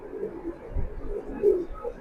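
Racing pigeons give soft, low coos, a few short murmuring calls close by with a faint background rustle.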